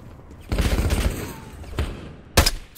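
Gunfire in the video game Call of Duty: Black Ops 6, a sustained burst of automatic fire followed by a short burst and then a final sharp volley, loud and close.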